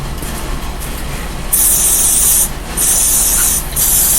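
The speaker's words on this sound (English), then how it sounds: "and as you know, lots of hairspray" Hairspray sprayed onto a wig in three loud, hissing bursts, each lasting about a second, over a steady low background rumble.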